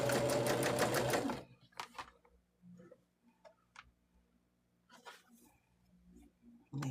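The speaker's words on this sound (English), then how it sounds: "And just again, doing that chain stitching." A sewing machine chain-stitches placemat seams in a loud, close, rapid run that stops after about a second and a half, followed by quiet handling noises and soft fabric sounds.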